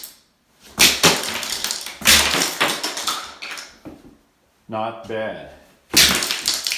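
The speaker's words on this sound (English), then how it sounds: "Knocking the tabs off is always a lot of fun. You just use your feet and literally kick them off." Plastic tile leveling tabs being kicked off a newly tiled laundry room floor, a series of loud sharp cracks and snapping breaks in bursts, close by, with a brief spoken remark between them.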